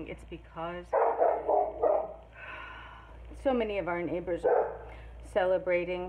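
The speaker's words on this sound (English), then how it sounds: "And if you hear the dogs barking," Dogs bark repeatedly in a home kitchen, unsettled by neighbors' fireworks, with loud harmonic barks and yips in bursts between stretches of someone talking over them.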